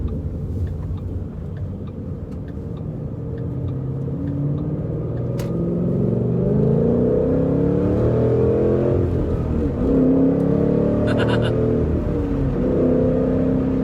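A 2013 Ford Mustang GT accelerates up a highway on-ramp, its engine rumble building in loudness and holding strong, heard close from inside the car.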